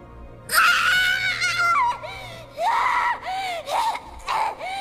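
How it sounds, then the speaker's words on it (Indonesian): A girl in an anime scene screams in pain, with one long piercing shriek followed by several shorter anguished cries and wails, loud and close with no other voices. "Hal itu membuat Riko menjerit kesakitan."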